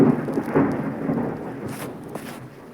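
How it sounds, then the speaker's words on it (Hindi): Rain and thunder set in outdoors: deep rolling thunder rumbles under a continuous patter of rain, fairly loud at first and easing slightly. "बारिश होने लगा"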